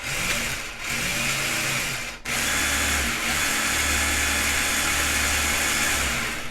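The electric motor of a Tamiya Wild One RC car whines steadily, dips briefly as the car brakes, then spins back up in reverse. The sound is close, loud and continuous, with no voices.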